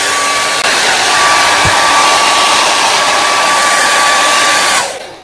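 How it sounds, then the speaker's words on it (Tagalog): A hair dryer blows on long, thick hair with a loud, steady, close-up whoosh and a faint whine, running continuously before cutting off at the end. "Blower muna tayo."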